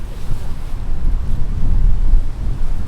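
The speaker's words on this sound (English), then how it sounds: "Oh, it's windy." Strong wind blowing outdoors and buffeting the microphone, a loud, steady low roar with gusty rumbling throughout and no talking.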